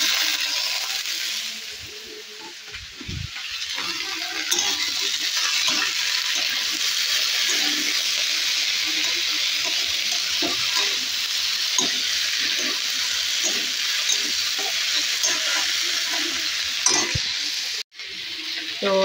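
Cauliflower frying in a pan in a home kitchen, a steady loud hiss of sizzling oil with faint stirring scrapes running throughout, no talk over it.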